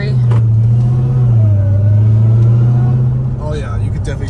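A Dodge Hellcat Redeye with a new cold air intake holds a steady, loud, close engine drone with a rising and falling whine, and a person speaks near the end.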